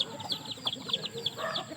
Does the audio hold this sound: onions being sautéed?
no